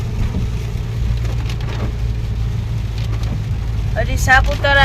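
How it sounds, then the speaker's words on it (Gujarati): Rain patters steadily on a car driving toward Saputara in Dang, a constant dense hiss with the engine's low rumble beneath it and a brief tonal sound near the end. "વરસાદ પાછો ચાલુ થઈ ગયો છે"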